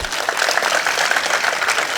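Audience in a school hall clapping for a student who answered correctly, a dense steady burst of applause from many hands lasting about two seconds, close and loud with no talking.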